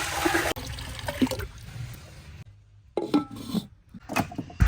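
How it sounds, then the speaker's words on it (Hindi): Water is poured into a cooking pot for boiling tangar lentils, with splashing and gurgling broken by a few clanks of metal and short pauses, loud and close. "टांगर की दाल को उबालने के लिए इसमें जाएगा जी पानी।"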